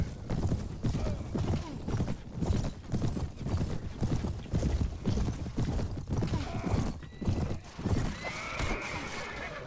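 Cavalry horses gallop in Mount & Blade Warband, a dense, steady clip-clop of many hooves with occasional neighs and whinnies, loud and close throughout, with faint voices now and then.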